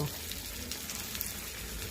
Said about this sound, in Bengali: আমি এটাতে এখন একটু পানি দিয়ে দিব